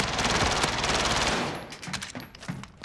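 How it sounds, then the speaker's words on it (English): A MAC-10 submachine gun fires in a first-person shooter video game: a dense, rapid burst of loud automatic gunfire that then breaks into scattered shots and impacts. "What gun is that, Joakim? The MAC-10?"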